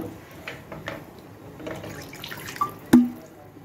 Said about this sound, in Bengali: এখন আমি গ্রেভিটা তৈরি করার জন্য জল দিয়ে দিচ্ছি পরিমাণ মতো।